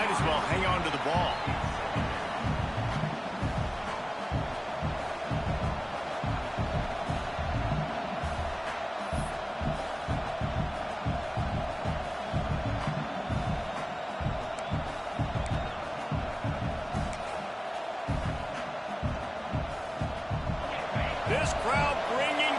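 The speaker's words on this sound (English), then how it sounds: "This crowd bringing the energy and noise early." Loud, continuous stadium crowd roar fills a football game, with cheering swells throughout and a commentator talking over the noise.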